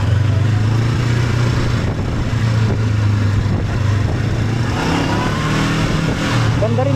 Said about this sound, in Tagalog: Ganda rin ng tunog nitong inline 2 na NX 500